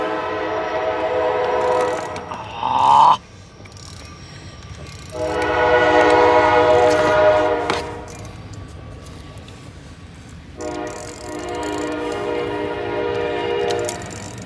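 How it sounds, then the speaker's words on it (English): A train rumbles past nearby, sounding several long, loud horn blasts separated by short gaps, with steady rolling noise underneath. "Speaking of choo-choo. Here comes another."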